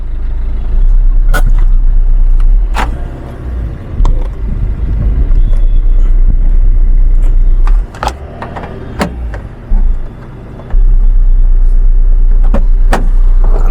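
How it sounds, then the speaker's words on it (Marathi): A used Maruti Swift Dzire engine cranks and catches, then runs with a loud, steady low rumble, dropping out briefly before resuming, with clicks and knocks on top. "हे पहा इंजन वगैरे पहा गाडीचं स्टार्ट करू"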